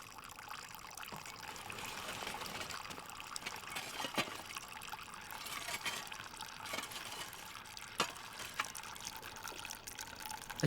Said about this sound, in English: What emerged from the tail of the worm was called singling.